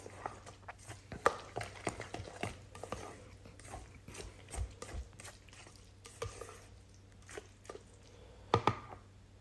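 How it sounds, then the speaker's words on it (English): Smoked eggplant salad stirred with chopped onion and garlic, giving soft wet squelching and scraping strokes in an uneven rhythm, close and fairly quiet, with no talking. "I like to mix it first, get all that mixed in there with the onion, with the garlic, the eggplant"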